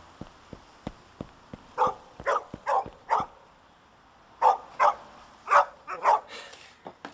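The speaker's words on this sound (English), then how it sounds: "Ah, just a spaniel." A spaniel barking in the video game Making Plans for Harvey, with about eight sharp, mid-loud barks in two bursts of four, each group spaced roughly half a second apart, over faint clicking footsteps.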